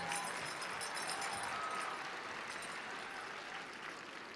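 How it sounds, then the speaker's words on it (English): Audience applause at a SACNAS cultural performance, greeting a very young dancer; a faint, distant wash of steady clapping that holds evenly throughout and fades a little at the end. "Give him a round of applause too"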